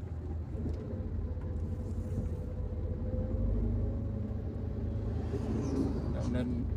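Heavy night traffic on the Palembang–Jambi highway, a continuous low road rumble of passing cars and larger vehicles, with engine tones rising and falling and a swell midway through.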